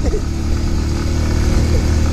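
A loud, steady motorcycle engine drone with a low rumbling throb, running continuously at an even pace without clear revving.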